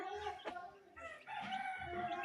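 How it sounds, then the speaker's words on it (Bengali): A desi hen clucks in short harmonic bursts near the start and again through the second half, close and fairly clear, with outdoor background noise and no talk. "এই যে মুরগিটা এখানে চলে আসছে হাঁটাহাঁটি করতেছে"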